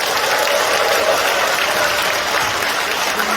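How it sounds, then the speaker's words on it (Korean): An audience applauds for President Yoon Suk-yeol at a People Power Party members' training event at the Gumi civil defense education hall, with steady, dense clapping filling the room throughout. "윤석열 대통령께 우리 박수 한번 드리시죠"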